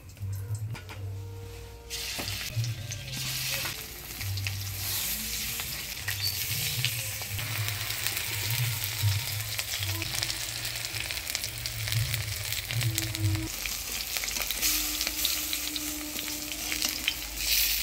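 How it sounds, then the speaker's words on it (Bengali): Mutton fat fritters frying in oil in a village kitchen, a steady close hiss and crackle that keeps going throughout with occasional spattering pops and a low background hum, with no talk. "চর্বির বড়াগুলো শুধু লাল করে ভাজলেই হবে না, সময় নিয়ে ভাজতে হবে।"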